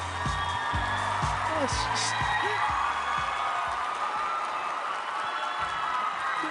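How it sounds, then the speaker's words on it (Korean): An audience at the Blue Dragon Film Awards ceremony applauds and cheers for a supporting actor winner, a sustained wash of clapping and crowd noise with talk over it. "여러분 다시 한번 축하의 박수 부탁드리겠습니다"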